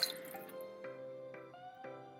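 Water poured into a rice pot for arroz con gandules makes a hollow, ringing stream whose tone climbs in steps as the pot fills. It is close and steady, with no talking.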